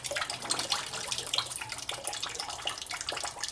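Tap water runs steadily and splashes close by, warming up for cleaning a Hawken-style muzzleloading pistol barrel, a continuous broadband rush with small fluctuations and no voices.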